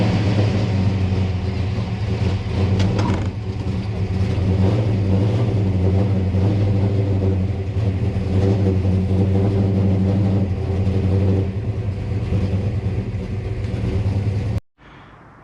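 Car fitted with Holley Dominator carburetors driving, its engine a loud, steady low rumble heard from inside, holding a constant drone for about fourteen seconds before cutting off abruptly.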